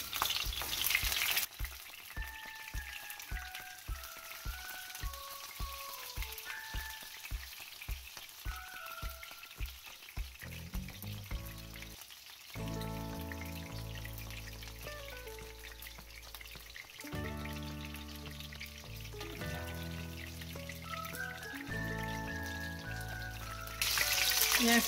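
Battered shrimp tacos fry gently in oil in a pan over moderate heat, a faint steady crackle and sizzle running beneath background music, with no voices.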